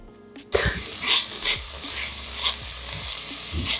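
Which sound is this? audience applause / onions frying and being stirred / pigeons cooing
onions frying and being stirred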